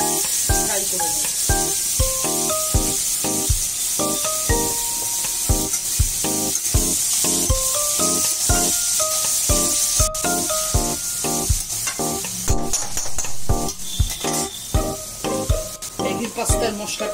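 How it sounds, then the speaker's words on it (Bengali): Vegetables frying in refined oil over a low gas flame for a macaroni pasta sandwich, a steady loud sizzle with repeated clinks and scrapes of a utensil stirring the pan. "এবার আমি সবজিগুলো গ্যাসটাকে লো ফ্লেম করে ফ্রাই করে নেব।"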